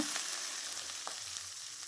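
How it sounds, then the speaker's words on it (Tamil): Potato pieces fry in oil with mustard seeds and curry leaves for a potato varuval, giving a steady soft sizzle with a few small crackles, faint and unbroken. "நம்ம கட் பண்ணி வச்சுருக்கிற உருளைக்கிழங்கை கொஞ்சம் கொஞ்சமாக சேர்த்துக்கோங்க"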